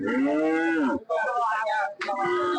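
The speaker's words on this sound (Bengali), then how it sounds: "এটি একটি এড়ে গরু" A bull lows at the Fashila cattle market, giving two loud, close, drawn-out moos separated by a short gap, with no other sound competing.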